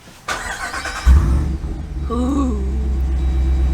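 A Jeep Wrangler Rubicon 392 Xtreme Recon's V8 fires up with a sudden loud roar after a brief starter crank, then settles into a deep, steady rumbling idle with a quick rev; a voice briefly exclaims early on.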